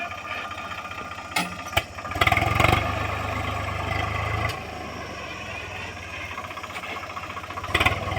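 A tractor pulling a plough in a field chugs steadily nearby, its throbbing engine note swelling briefly in a few places, with occasional knocks and faint voices in the background.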